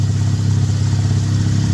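A carburetted engine idles steadily as it warms up, a loud, continuous low rumble with an even throb and no voices over it.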